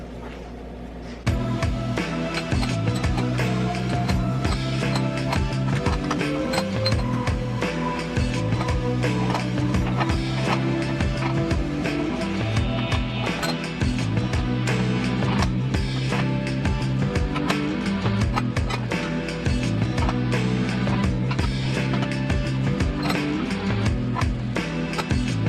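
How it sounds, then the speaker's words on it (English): A bent Schlumpf Mountain Drive torque arm is worked flat in a bench vise, giving a steady run of close, loud metallic ratcheting and grinding clicks throughout, with no talk. "So I'm going to put it in the vise and try and flatten it back out."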